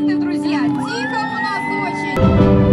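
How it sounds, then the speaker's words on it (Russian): A crowd whoops and cheers at a roller-ski race awards event, voices rising and shouting together, with a louder burst near the end and an announcer's voice heard over the noise. "Ваши аплодисменты, друзья!"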